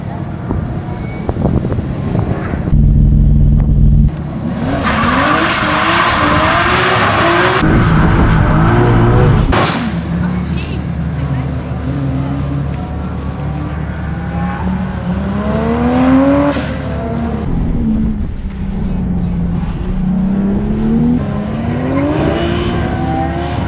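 A 2JZ-engined Lexus IS200 charges through a rally sprint, its engine revving hard and loud in repeated surges, with gear changes and rising and falling pitch as it passes.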